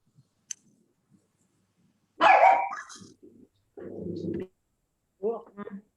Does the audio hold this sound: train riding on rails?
no